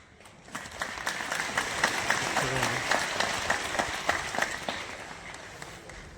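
An audience clapping at a State Child Welfare Council event: a dense burst of applause that swells quickly, holds steady for several seconds, then fades, with some voices mixed in.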